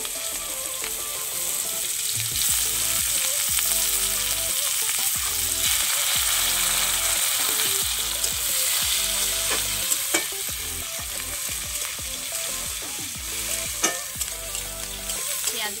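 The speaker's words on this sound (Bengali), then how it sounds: "পেঁয়াজগুলোকে আমি ভেজে নেব" Chopped onions and dried red chilli sizzling in hot oil left from frying chela fish, a loud continuous fry with repeated stirring scrapes throughout.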